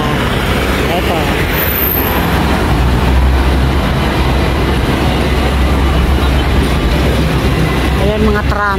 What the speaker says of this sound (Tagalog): Ayan mga tram. Enjoy watching guys sa mga tram train.